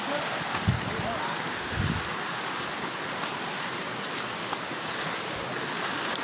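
Steady, broadband rush of abundant flowing water along the way to Kawasan Falls, continuous and fairly close, with a couple of low thumps and faint voices in the background.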